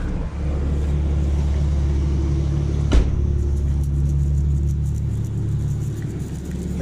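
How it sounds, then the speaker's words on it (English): A Chevrolet Trailblazer's air conditioner blows at full fan, a steady loud broadband rush over a low engine idle rumble, with a brief click near the middle and no talk. "Turn on the AC"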